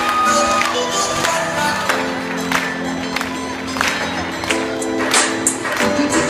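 Audience at a school year-end show clapping along to hip-hop, loud rhythmic handclaps over music and crowd noise, steady throughout.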